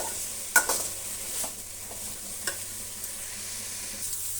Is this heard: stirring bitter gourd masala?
yes